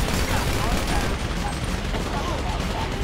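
Dense, rapid gunfire in the video game GTA 5 during a heist played in VR, a continuous loud crackling volley of shots with no gaps.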